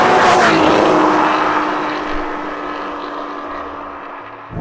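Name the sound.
Porsche 981 GT4 engine downshifting into second gear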